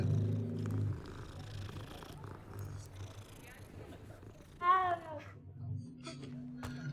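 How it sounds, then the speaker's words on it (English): A cat purrs while being petted in the video game Hogwarts Legacy, a soft steady rumble with a brief brighter meow-like cry near the end, over faint background sound and some voice. "Best game ever, you can pet a cat."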